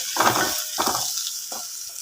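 Turmeric stirred through coconut oil in a pan for an egg roast, heard as three separate scraping strokes, the first two longer and the last short, over a quiet background.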